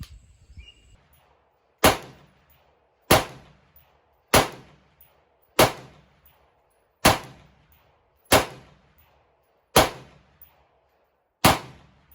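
Eight rifle shots at an outdoor range fired through a budget red dot sight, each a loud sharp crack with a short decaying echo, spaced about one to one and a half seconds apart after a brief quiet start.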